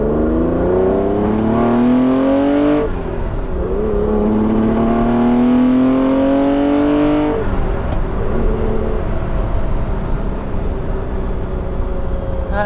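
A 1979 Ferrari 512 BB pulls hard from a rolling start in second gear, its engine roaring loudly and close, pitch climbing steadily in long sweeps with two abrupt drops where the revs reset before rising again.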